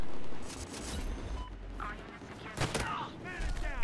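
Gunfire in the video game Battlefield Hardline: bursts of shots and impacts crackle through a busy firefight, with voices talking over the action.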